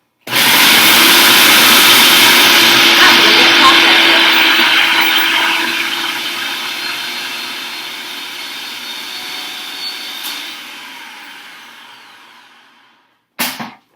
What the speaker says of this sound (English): Now you're just going to blend it until it's all kind of finely minced up for you.